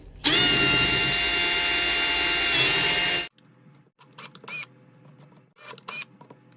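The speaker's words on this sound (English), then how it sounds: "repeat the drilling process for the remainder of them 2 holes" A power drill whines loudly at a steady pitch for about three seconds, then stops, followed by a few short clicks and rattles of handling.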